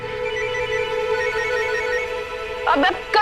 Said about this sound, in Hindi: देखो करण सर का फोन आ रहा है